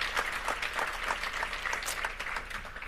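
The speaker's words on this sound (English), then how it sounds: "If we could give them a round of applause" A crowd at a 25th anniversary event applauds as a chief medical officer and others stand on stage, a steady, moderately loud clatter of many hands with sharp individual claps poking through.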